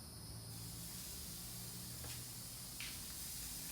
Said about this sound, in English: Sizzle. Sizzle. You got that sizzle?